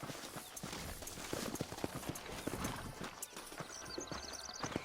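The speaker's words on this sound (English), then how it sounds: "Vamos, caballo vago." A horse galloping in the video game Red Dead Redemption, with steady rapid hoofbeats over a dense wash of ambient noise and a brief whinny-like sound near the end, moderately quiet and continuous.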